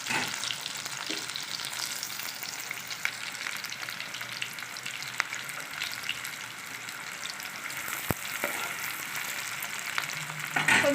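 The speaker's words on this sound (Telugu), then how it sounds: "సో ఆనియన్స్ బాగా ఫ్రై అవ్వాలి." Onions frying steadily in a pan, a dense continuous sizzle with occasional stirring scrapes, close and fairly loud with no talking throughout.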